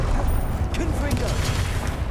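A Confringo spell explosion from the Hogwarts Legacy video game booms loudly amid dense rumbling game noise, with bursts and crackles layered over a continuous low roar.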